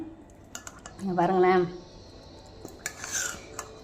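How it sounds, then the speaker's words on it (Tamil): A spoon scraping and clinking in a pan while tamarind rice (puliyotharai) is stirred, soft metallic scrapes with a few sharp taps, and a voice briefly heard in the middle. "இதை கிளறிடுவோம்"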